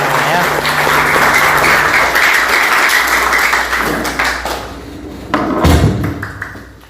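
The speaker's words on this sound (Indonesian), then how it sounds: "Oke, tepuk tangan semuanya ya." An audience at a school event claps together, a steady wash of applause with a low hum underneath, which thins out into scattered claps and a couple of thumps near the end.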